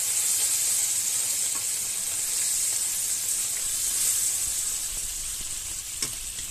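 Steady hot sizzle of water poured onto caramelizing sugar in a pan for a fennel tarte tatin, a dense close crackling hiss that holds evenly throughout with no talk.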